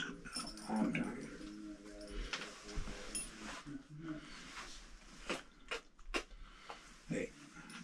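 A small affectionate dog whimpers and whines in short, faint bursts close by, mixed in with a person talking and handling noises.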